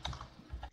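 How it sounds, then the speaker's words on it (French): Computer keyboard typing, a quick cluster of soft close key clicks over a fraction of a second, with no talking. "Asako Kimiko utilise son clavier"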